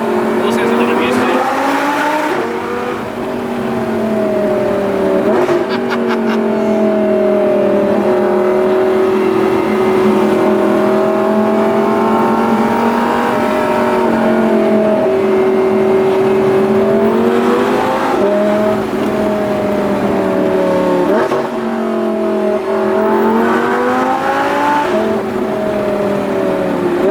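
Audi R8 V10 plus engine pulling hard while driving, a loud sustained tonal roar that rises and falls as the revs climb and shift, with voices talking inside the cabin.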